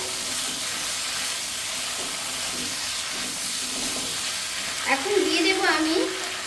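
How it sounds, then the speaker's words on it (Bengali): Mushroom mixture sautéed with ground ginger in a pan, stirred to a steady close sizzle with soft scraping, joined near the end by a brief whistling hiss, and no one talking. "আর একটু ভালো করে নেড়ে চেড়ে কষিয়ে দেবো"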